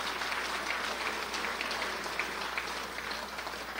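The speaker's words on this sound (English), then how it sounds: "We should absolutely applaud for that." Steady applause from an audience at a Crown Point, Indiana state-of-the-city address, a dense, even wash of clapping held at moderate volume for several seconds.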